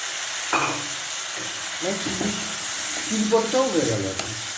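Cut potato pieces go into a pan of frying chicken, with close, steady sizzling and a few louder stirring clatters and bursts in the latter half, over a constant hiss.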